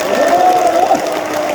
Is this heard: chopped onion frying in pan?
no